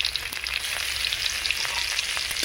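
Garlic paste fries in hot oil in a pan with a bay leaf, a dense, even sizzling hiss with faint scattered pops, close and steady with no voices.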